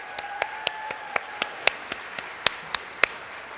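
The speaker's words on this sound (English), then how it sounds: "Let's give them one more round of applause." Slow, sparse hand claps at a Teacher of the Year gala, about a dozen sharp, evenly spaced claps ringing out clearly with faint room tone between them and no voices.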